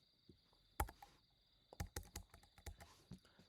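Quiet typing on a computer keyboard: scattered, then quicker clusters of light key clicks, close and soft, with no voices.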